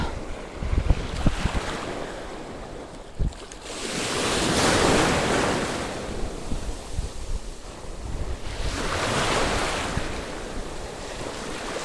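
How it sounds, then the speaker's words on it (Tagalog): Heavy surf rolls in loud swells while strong stormy wind buffets the microphone on a fishing trip, the roar rising and falling in long waves. "Lakas ng alon mo. Malakas talaga."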